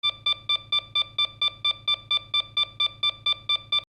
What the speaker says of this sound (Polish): Bo teraz mamy sobie ten sample tego domofonu